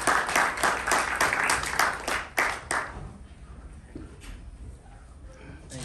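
Audience applause welcoming two speakers onto a stage at a Princeton talk, a dense burst of clapping for about three seconds that then fades quickly into quiet room ambience.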